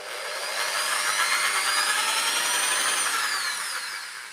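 A power drill whines loudly and close up as it bores a hole through a Volkswagen Baja Bug wheel, one continuous burst swelling and then easing off with a gritty, rising tone.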